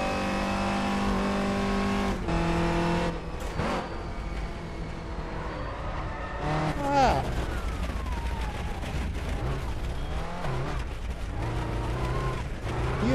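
Clio Cup 2015 race car in rFactor 2 at Toban, engine droning steadily then revving and bucking with harsh backfire-like cracks as it slides off the track, loud and continuous throughout.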